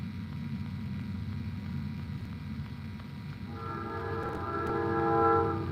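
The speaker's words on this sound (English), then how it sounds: "There's been a lot less trains tonight too, but we got one coming" A train passes near a nighttime fishing spot by the water, its rumble steady under ambient noise before a horn-like tonal blast rises for the last couple of seconds, swelling louder toward the end.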